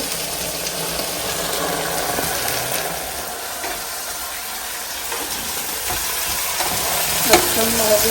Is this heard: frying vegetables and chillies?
yes